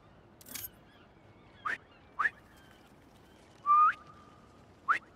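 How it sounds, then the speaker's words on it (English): Whistles calling pigeons in Marvel's Spider-Man 2: several short sharp whistle blasts spaced apart, with one longer sustained whistle and a brief breathy burst at the start, clear against a quiet background. "Try a whistle."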